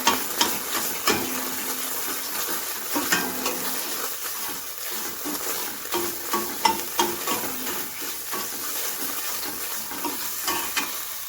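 A spoon stirs a filling mixture in a frying pan, scraping and clacking in a steady rhythm over a constant loud sizzle and hiss, close up.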